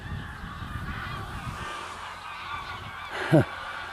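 A single goose honks briefly in the distance over a low outdoor rumble by a reservoir; no barking is distinct.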